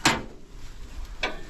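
The heavy rear door of a 2022 Takeuchi TL12-V2 high-flow compact track loader being opened, with two brief metallic clunks, one at the start and one near the end, over quiet outdoor background.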